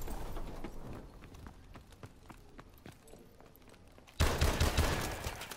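Gunfire in Advanced Warfare multiplayer crackles as a rapid string of sharp shots, then a sudden loud burst of dense firing takes over near the end.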